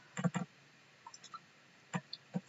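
Computer mouse clicked quietly in a few quick pairs, with short pauses between the sets of double clicks.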